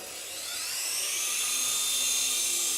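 A JJRC SY003B Captor three-channel infrared toy RC helicopter spins its rotor up to full throttle, a close, high-pitched electric whine that rises and then holds steady and loud.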